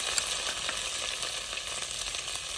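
Close, steady sizzling as curry leaves, fenugreek seeds, cloves and ginger-garlic paste hit hot oil for a kadhi pakoda tempering cooked over a wood-fired stove, a dense unbroken crackle throughout.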